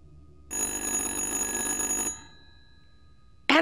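A telephone rings in the horror video game Little Hope, one loud sustained electronic ring lasting about a second and a half, then quiet, with a brief burst of sound at the very end.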